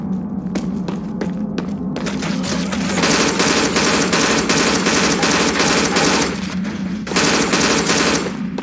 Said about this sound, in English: Fire bullets here!